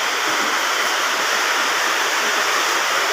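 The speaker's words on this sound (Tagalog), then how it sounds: "At ito nga, umuulan na nga rin ngayon." Heavy rain falls steadily on a newly renovated house roof, a dense, loud, unbroken rushing hiss with no pauses.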